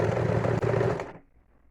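A sewing machine stitches a quilted seat cushion with a steady, close mechanical whir for about a second before it stops and quiet follows.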